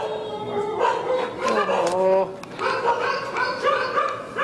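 Dogs barking in short, repeated yaps and whimpers, mixed with people talking excitedly over them, in a tense indoor setting.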